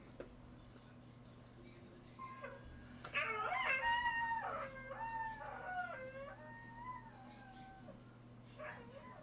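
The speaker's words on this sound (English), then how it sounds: "He howls at the telephone" A dog howls at a ringing telephone in a long, wavering woo that rises and falls in pitch, moderately close, after quiet background hum and before a brief trailing call.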